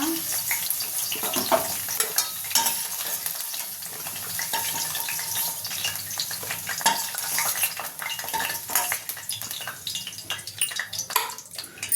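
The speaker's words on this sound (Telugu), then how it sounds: "ములక్కాయ ముక్కలు ఫ్రై చేసుకున్నా. కొంచెం ఫ్రై చేసుకుంటే పచ్చివాసన పోతుంది." Drumstick pieces fry and get stirred in hot oil, a steady sizzle running throughout with scraping and clinking of a spatula against the pan, close and continuous with no talking.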